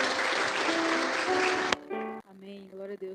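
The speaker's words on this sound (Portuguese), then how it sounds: "Uma salva de palmas ao Senhor Jesus, amém?" A church congregation claps in a loud dense burst that cuts off sharply partway through, followed by tonal sound, likely music or voices, continuing afterward.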